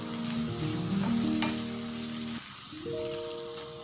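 Chopped tomatoes sautéing in oil in a pan for paneer butter masala, a steady close sizzle and frying hiss with stirring, while steady tones ring over it.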